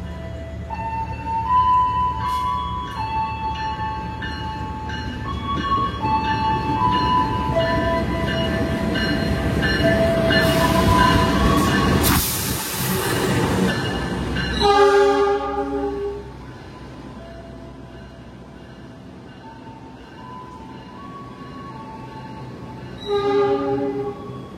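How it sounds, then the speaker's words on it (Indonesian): Indonesian passenger trains Argo Wilis and Turangga pass close to a station platform under a high canopy. Loud, sustained rolling rumble with horn blasts, fading into a quieter hum before another short horn sounds. "Kereta api Argo Wilis Malam, kereta Turangga teman-teman."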